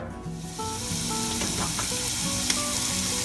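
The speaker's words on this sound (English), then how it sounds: "Can you see how the garlic is frying?" Steady close-up sizzling and crackling of garlic frying in a hot pan, continuous hiss with small pops and light stirring, over faint background music.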